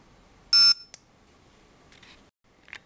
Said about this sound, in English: press and hold it until the red light comes on and you hear a beep